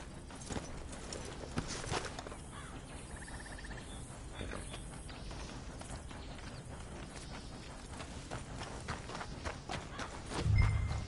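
Horses walk with steady, moderately close hoof clops on the ground in Red Dead Redemption 2, continuous under faint ambient outdoor noise.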